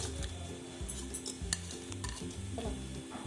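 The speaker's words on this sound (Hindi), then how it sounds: "तो ये हमने डाल दिया पतीले में कीमा और इसके ऊपर हमने ये प्याज भी डाल दिए हैं।" Minced beef and onions dropped into a cooking pot for aloo keema, frying with a steady low sizzle while a utensil stirs and scrapes against the metal, close and continuous with no talk.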